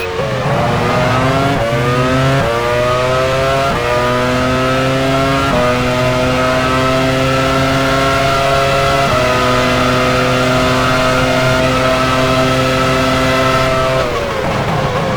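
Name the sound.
F1 race car driving into the pits, F1 Challenge 99-02 video game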